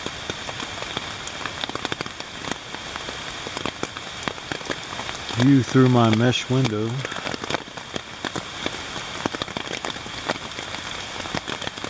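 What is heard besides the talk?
rain falling on tent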